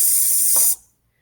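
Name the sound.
voice sizzling imitation for half notes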